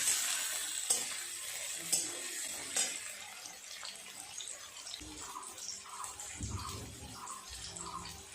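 Chopped onion frying in oil for a country chicken curry, a soft sizzle with faint clinks at the start and some quiet scraping and stirring later, all fairly low and close by.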